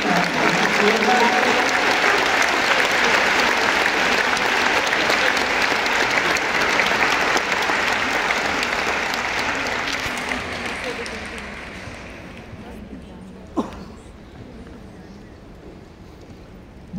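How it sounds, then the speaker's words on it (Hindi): A large audience claps steadily at a live spiritual gathering, forming a dense, loud, sustained wash of applause that slowly fades and thins toward the end, with a single sharp clap near the close. "ताली बजनी चाहिए।"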